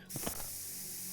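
A quick burst of hissing spray comes from a pump sprayer in the video game Chernobyl Liquidators. A couple of faint mechanical clicks sit at the start of the short, close, steady spray.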